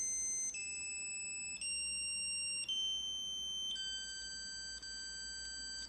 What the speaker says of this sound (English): So this is slow, so we can simply interrupt the alarm like this.